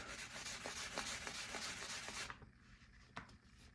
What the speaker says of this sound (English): This will just smooth that neck up even more. Clean off a little bit more of that compound.